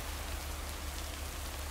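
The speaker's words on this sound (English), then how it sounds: "Can't harvest taters with all this rain." Steady rain falls in the video game Lake, a soft, even hiss of drops with no break and no voices.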